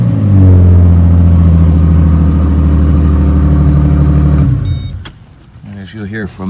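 A 2005 Ford Mustang engine with Magnaflow dual exhausts runs loud and steady at close range, a deep droning rumble that holds for about four seconds before dropping away, followed by brief speech.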